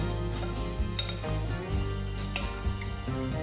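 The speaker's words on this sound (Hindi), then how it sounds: "सभी चीजों को मैं अच्छी तरह से मिक्स कर दूंगी ताकि ये दोनों मसाले ठीक से आंवलों में रच बस जाए" Gooseberries being mixed with turmeric and spices in a metal bowl, a spoon scraping and clinking against the vessel in irregular strokes, close up with a steady background hum and no voices.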